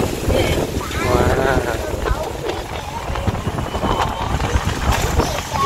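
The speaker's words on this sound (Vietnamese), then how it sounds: "Gió quá." Strong wind buffets the microphone on an open-top city bus in Saigon: a continuous loud roar and rumble, with voices faintly underneath throughout.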